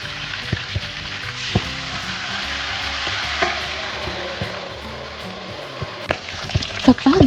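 Steady hiss of oil deep frying a pork leg, with occasional clanks and knocks of a utensil against the pot, close up and continuous.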